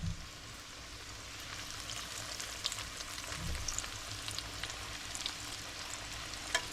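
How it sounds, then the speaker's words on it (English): Thin white meat fries in a pan, a steady soft sizzle with crackles and small pops throughout, close and alone with no talking. "We're just gonna fry it."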